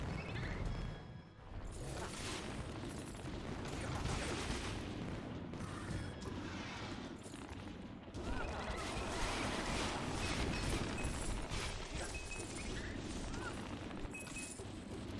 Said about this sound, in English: the damage explosions are fun sometimes